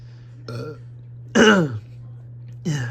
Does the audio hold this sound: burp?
yes